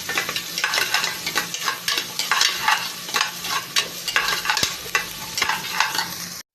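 Red onion and garlic sautéing for red pork adobo: a lively close sizzle with the constant scrape and rattle of a spatula stirring through the pan, steady and fairly loud with no voices.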